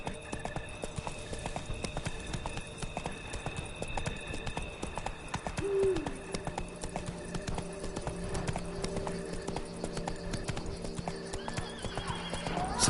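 A horse gallops in The Witcher 3 video game, with a steady, rapid clip-clop of hooves and one brief whinny midway, all at a moderate level.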